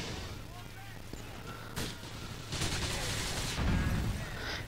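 Grenades go off in GTA IV as a few booming blasts with crackling bursts over low background game noise, and a voice talks around them.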